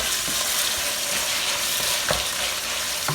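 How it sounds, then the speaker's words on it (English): Onions fry in a hot pan with a loud, dense, steady sizzle close up, punctuated by a few faint stirring scrapes, no voices. "So I'm going to add it last after my onions get good and smelly."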